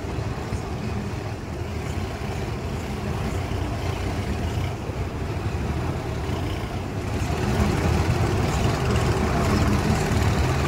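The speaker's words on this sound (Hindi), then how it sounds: "अब लाया दोस्तों इसमें स्पीड से," A New Holland tractor engine labours as it pulls a loaded trolley uphill, a continuous low diesel drone that grows louder and heavier toward the end.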